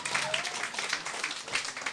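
A studio audience claps and cheers as a guest named Jason Babin comes onto the stage, a dense, steady burst of applause with a voice faintly underneath.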